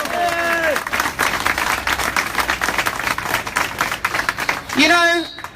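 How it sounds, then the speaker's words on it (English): Outdoor rally crowd clapping in a lively burst, uneven and fairly loud, with a voice heard at the start and again near the end over the applause. "So give yourselves a round of applause for coming out."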